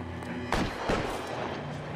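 Gunfire in the L.A. Noire police shootout, two sharp bursts close by over a steady game backdrop, with a voice talking faintly underneath.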